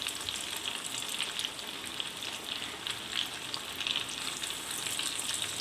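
Chicken popcorn frying in hot oil over a high flame gives a continuous bright crackling sizzle, steady and close, with no voices over it.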